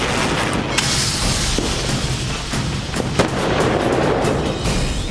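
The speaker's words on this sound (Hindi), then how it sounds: "शनिवार की रात जमकर पटाखे फूटे" Diwali firecrackers bursting repeatedly in the distance on a Saturday night in Delhi, sharp cracks and booms scattered irregularly over a dense, continuous crackling background.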